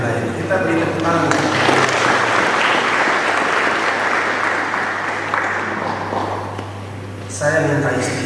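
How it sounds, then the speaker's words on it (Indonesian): An audience claps at the opening of a church council assembly, a strong burst of applause lasting several seconds with speech before and after and a steady hum underneath. "Kita beri tepuk tangan."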